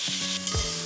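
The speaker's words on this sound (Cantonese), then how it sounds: "落牛肉轉細火炒散" Ground beef hitting a hot oiled pan and being stirred apart over low heat, a brief loud sizzle with a scrape of the utensil.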